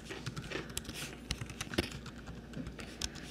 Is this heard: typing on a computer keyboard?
yes